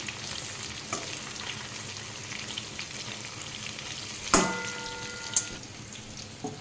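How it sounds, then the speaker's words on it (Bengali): Potatoes frying in a pan hiss with a quiet, steady sizzle, broken partway through by a sharp metallic clink of a utensil that rings briefly, then a few softer stirring knocks. "দেখো কত সুন্দর ভাজা হয়ে গেছে, আলুটা সিদ্ধ হয়েছে নাকি দেখি।"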